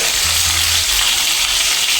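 Chopped capsicum cooking slowly in oil over a low gas flame gives a close, steady hiss and sizzle with a faint low hum beneath, with no talking.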